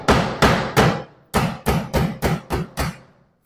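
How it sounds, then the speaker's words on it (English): A hammer strikes repeatedly while leftover vinyl siding is fastened onto a custom dog house, about nine sharp, close, loud blows in an uneven rhythm with a short pause partway through. "Now I'm gonna put some vinyl siding on it that we had left over from the house"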